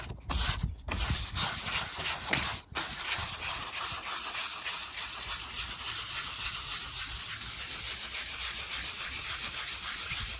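Steady rhythmic rubbing and hissing of wet sanding with 1000-grit paper on spray-can paint, continuous and close, after a few brief knocks at the start.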